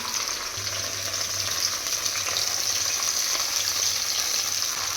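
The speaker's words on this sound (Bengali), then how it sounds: "এখন এই মশলাটা ভালো করে ভাজা ভাজা হবে" Ground ginger and cumin paste fries in hot oil for a fish curry, giving a steady, close, even sizzle that carries on unbroken with no talking.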